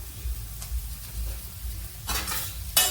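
Ragi semiya (finger millet vermicelli) being stirred in a greased pan, with soft scraping and light sizzling throughout and two sharper clatters of a spoon against the pan near the end; no one speaks.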